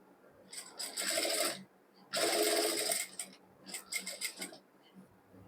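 Sewing machine stitching fabric for a maxi dress, running in several short bursts of rapid, close mechanical whirring over a quiet room background.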